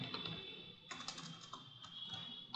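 Fingers tap a computer keyboard in quick, uneven runs of close, quiet clicks over a faint steady hum, with no voices.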